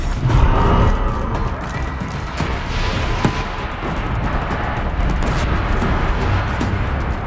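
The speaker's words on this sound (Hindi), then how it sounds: "गोलियां और मिसाइल्स कंटिन्यूअसली चलाया जा रहा है" Relentless gunfire and missile launches from a machine during a Horizon Zero Dawn battle against the Deathbringer, a dense continuous roar of blasts and impacts, loud and close with no pauses.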